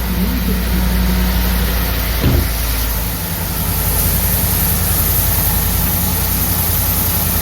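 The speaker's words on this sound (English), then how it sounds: "I guess we can start it up." Ford F-150 with a 5.0 V8 and a new cold air intake and throttle body kit, heard up close at a loud steady idle with a brief change near the start, no talk.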